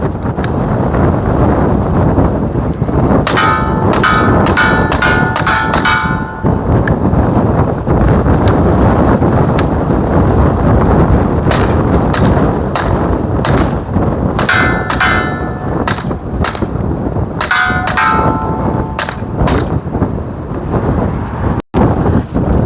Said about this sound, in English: here comes 20 rounds of the Remington Thunderbolt.